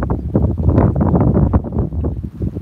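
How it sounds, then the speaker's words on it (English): Strong wind buffeting a phone microphone aboard a boat, with a loud, continuous, gusty rumble that holds throughout. "I don't know if you guys are hearing the wind noise there"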